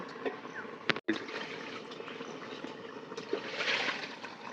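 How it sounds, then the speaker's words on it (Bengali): Water gets poured into a pot of vegetables for shukto, a faint trickling and splashing with a sharp clatter near the start and a brief louder burst of pouring later. "এই যা জলটা দেবো, আর জল দেবো না।"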